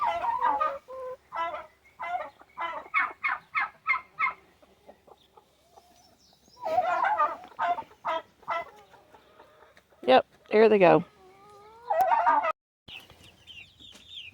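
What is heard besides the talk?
chickens clucking in a backyard flock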